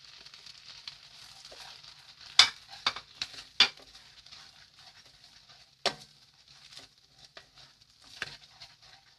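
Spices and marinated chicken fry in a pan for butter chicken, a soft sizzle running under sharp scrapes and clinks as a spoon stirs, with several louder knocks against the pan.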